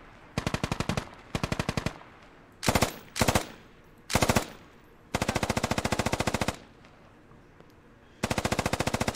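Automatic machine gun fire from an M240 in the military shooter game Squad, loud and close: long sustained bursts broken by several short rattling volleys, with brief pauses between strings of rapid shots.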